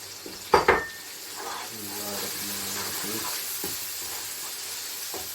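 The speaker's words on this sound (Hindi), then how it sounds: "अब हम इसमें मसाला भून देंगे थोड़ी सी" Masala for chana dal sizzles and fries in a pan, a steady hiss with a couple of sharp metal clinks of a utensil near the start and soft stirring scrapes, with a voice talking faintly over it.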